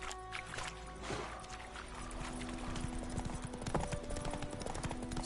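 Geralt's horse Roach gallops in The Witcher 3, a steady rhythmic clip-clop of hooves close by over ambient game sound, with no talking.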